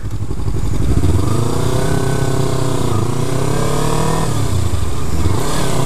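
A modified 2015 Yamaha R3 motorcycle engine revs loud and close, its pitch climbing and sweeping through several rises and falls with no talk over it.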